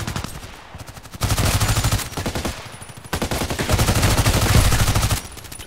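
Rapid automatic fire from the PDR-C rifle in the shooter game Contract Wars, two long loud bursts of quick, evenly spaced shots separated by a short gap, close and without talking.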